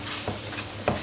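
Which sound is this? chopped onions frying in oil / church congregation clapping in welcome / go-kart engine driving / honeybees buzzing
chopped onions frying in oil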